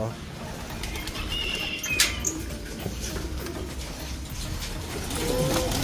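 A racing pigeon coos outdoors amid a steady background hum, with a few soft bird calls and a sharp click partway through.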